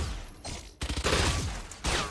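Spectre submachine gun in Valorant firing in rapid bursts, dense close-range gunfire with short gaps between volleys, loud and alone with no talk.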